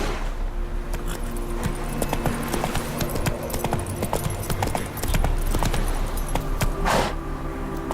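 A horse gallops in The Witcher 3: Wild Hunt – Blood and Wine, its hooves drumming in a fast, steady rhythm over continuous game ambience and tones, with a brief whoosh near the end.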